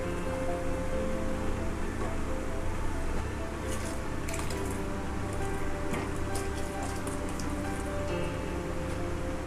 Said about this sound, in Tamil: இப்போ நம்ம அரைச்சி வச்ச மசாலா இதில் ஆட் பண்ணிக்குவோம்.